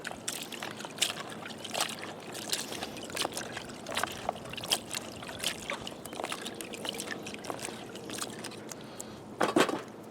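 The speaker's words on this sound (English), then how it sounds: "I'll drain all that dirty water off." Dirty water drains off freshly washed wild fiddleheads, a series of irregular splashes and trickles pouring out in bursts, close and moderately loud, ending with a heavier gush.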